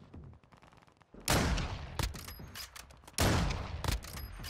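Gunfire in Call of Duty: Modern Warfare II, with two loud, close bursts of rapid shots, each followed by decaying echoes and scattered lighter shots, alone without talk.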